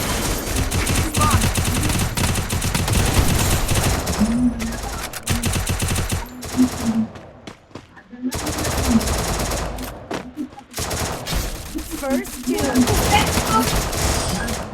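A P40 gun fires in a shooting video game, with rapid bursts of automatic fire and loud continuous game noise over about fifteen seconds, broken by a short quieter lull.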